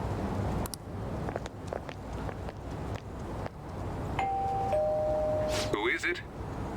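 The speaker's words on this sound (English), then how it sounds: "Thankfully, Abby cannot hear the doorbell because it's only coming out of my headphones" A doorbell in the Persona 5 video game gives a two-tone ding-dong chime midway, moderately loud over a busy bed of game sound, with speech likely underneath.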